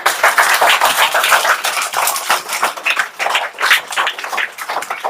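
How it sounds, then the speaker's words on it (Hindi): Steady, continuous hand clapping, the busy patter of several people at once, fills a children's alphabet lesson for several seconds without pause. "ताली बजाओ।"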